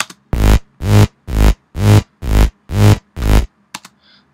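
Synth bass from a remix, with an LFO wobbling the tone: seven loud, evenly spaced sustained notes in a steady pulse, each with a bright, crisp top. A short pair of faint clicks follows at the end.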